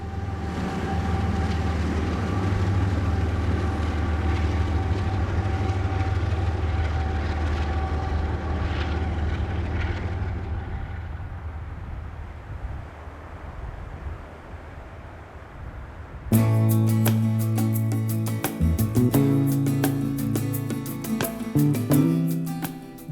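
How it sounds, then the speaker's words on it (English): CSX manifest freight train X653 passes at North End on the Kingsport Sub in winter, a loud low rumble of engines and rolling cars that fades mid-way and then returns as a clattering, rhythmic run of wagons. "Now continuing its way south, this manifest train is passing the newly installed Vader signals at North End"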